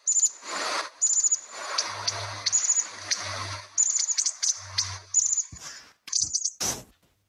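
A small flock of bushtits gives rapid, high, thin twittering calls in bursts, close and busy, with soft rustling between calls.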